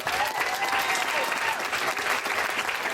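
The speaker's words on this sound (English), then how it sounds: "And one more big round of applause for Miss Laci Friend from Wichita." An audience gives a full, sustained round of applause for Laci Friend from Wichita after a product demo, dense and steady clapping that fills the whole three seconds.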